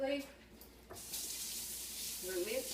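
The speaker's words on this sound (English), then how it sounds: "I'm going to wash my hands quickly. At least rinse them off." Water runs from a kitchen tap as hands are rinsed under it, a steady close hiss starting about a second in and continuing to the end, with brief faint voice sounds at the start and near the end.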